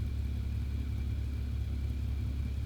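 Steady low car engine drone from a GTA Online Ignus supercar with a newly swapped exhaust, a continuous rumble and whir idling close and loud with no clear revs and no talk.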